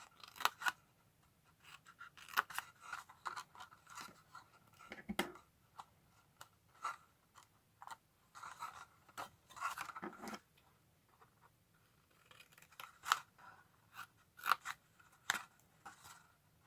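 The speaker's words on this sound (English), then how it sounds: "cut the wedges away here" Scissors cutting wedges from cardstock, a series of close, crisp snips in irregular clusters with short pauses between cuts.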